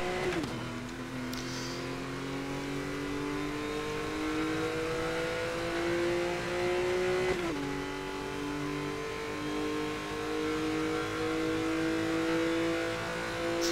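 A Bugatti accelerates in Need for Speed Most Wanted (2012), its engine note climbing steadily through the gears with one shift-like drop midway, a continuous smooth revving drone alone with no talk.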